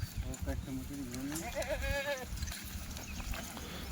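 A Kathiawari goat lets out a drawn-out, quavering bleat amid a herd, heard near, with people talking and some shuffling in the background.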